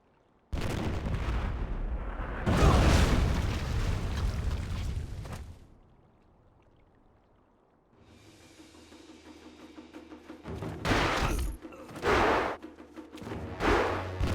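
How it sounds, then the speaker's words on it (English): Cannon fire in the Jade Empire video game: two long, loud booming blasts, a quieter lull, then a series of sharp, heavy explosive bursts that pound out in quick succession. "Cannon fire."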